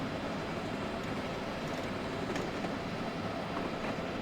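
A high-speed train running at about 125 mph in a train simulator game gives a steady, loud rumbling roar that holds evenly throughout with no talk.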